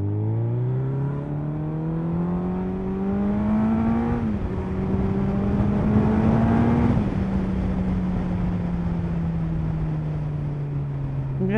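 A Suzuki Hayabusa motorcycle on Michelin Pilot Road 5 tyres accelerates hard through the gears, its engine note climbing in pitch, dropping at each shift and rising again, loud and close with no talk.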